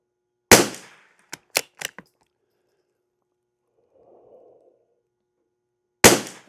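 Rifle shots of CCI standard velocity rimfire ammunition at a shooting range ring out as two sharp cracks several seconds apart, with a few lighter clicks in between, otherwise near silence.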